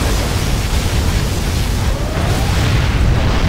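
A C&C Generals Zero Hour particle cannon blast roars as a sustained, loud, rumbling wash of noise, a thick continuous boom with a faint thin whine sliding through it.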